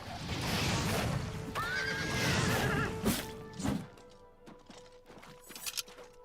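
A horse whinnies loudly over a busy, clattering Oblivion Remastered game soundscape, followed by scattered thuds and clip-clop hits as the noise settles.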